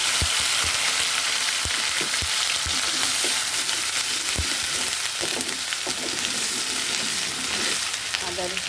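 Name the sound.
ginger and garlic spice paste frying in pan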